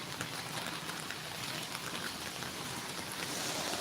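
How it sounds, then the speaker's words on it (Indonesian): Heavy rain pours steadily in a dense, even hiss with no pauses, loud and close, with no voices. "Hujannya gede sekarang teman-teman."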